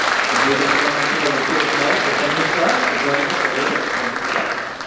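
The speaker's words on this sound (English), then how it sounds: "How about a rousing round of applause for our school committee and our central office administrators?" Loud, rousing round of applause from an audience at a spring school music concert, steady and dense for several seconds before tapering slightly at the end.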